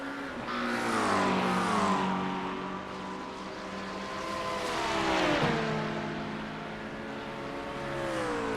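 An LMP2 prototype race car in the iRacing simulator threads through a field of GT3 cars, its engine note rising and falling in pitch through gear changes and revs, loud and continuous with a brief dip mid-way.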